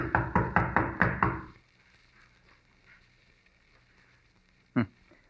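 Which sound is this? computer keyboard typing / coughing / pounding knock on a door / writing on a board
pounding knock on a door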